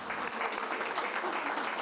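A crowd at a farewell ceremony in Chile, welcoming Janet Jara, applauds in sustained, dense clapping that stays steady throughout.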